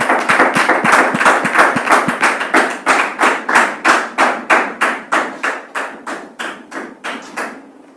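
Rhythmic unison clapping from an audience welcoming a guest, about three claps per second, loud and close at first, then thinning and fading toward the end.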